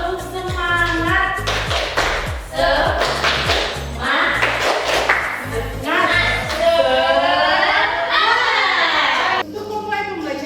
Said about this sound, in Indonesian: saya mau kasih semangat kalian untuk tepuk semangat bersama-sama ya